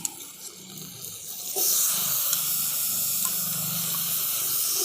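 Diced potatoes hit hot oil for a khasta kachori filling, and a loud, steady sizzle starts abruptly partway through, then holds as a bright continuous hiss after a quieter start.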